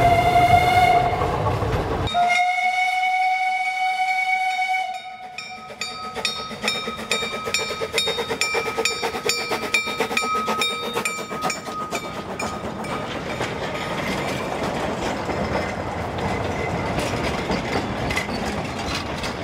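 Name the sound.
train braking on steep railway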